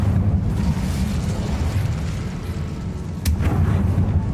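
An Incendio fire spell blasts in the Hogwarts video game, a loud, continuous roaring rumble with a sharper burst near the end, alone with no talking.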